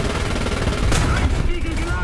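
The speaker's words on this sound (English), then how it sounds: "See how garbage MG3 is? Two of them shooting at that AM1" Two MG3 machine guns fire at an AM1 aircraft in War Thunder realistic battles, a dense, continuous rattle of rapid gunfire filling the whole stretch, with a brief sharper burst midway.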